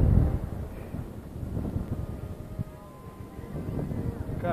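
Wind buffets the microphone high up on the Sky Screamer swing ride at Six Flags as a steady, loud roar, with faint voices under it.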